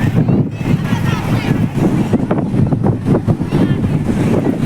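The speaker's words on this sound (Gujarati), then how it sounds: "પવન એટલો બધો આવે છે" Strong wind gusts across the beach at Somnath on the Gujarat coast, buffeting the microphone in a loud, continuous roar with surf underneath while people talk over it.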